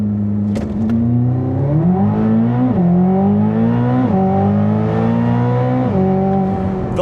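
A Corvette ZR1 with about 1,000 horsepower accelerates hard through several gears, its loud engine note rising repeatedly and dropping briefly at each shift, heard alone from inside the car.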